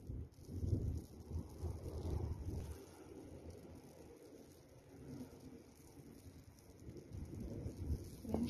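Low, gusty wind buffets the microphone in uneven waves, rising and easing over several seconds with no voices.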